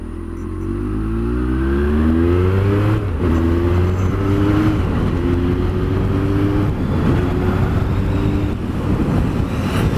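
Honda CB1300 S motorcycle accelerating on a road, engine rising steadily in pitch through each gear, a brief drop at a shift, then climbing again, loud and close throughout.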